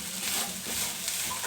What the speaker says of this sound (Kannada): ಈ ರೀತಿಯಾಗಿ ಗೋಲ್ಡನ್ ಕಲರ್ ಬರೋ ತನಕ ಫ್ರೈ ಮಾಡಿ